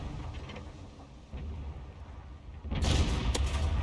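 Tank cannon firing in a tank battle video game, a single heavy boom near the end over a low rumbling battlefield background.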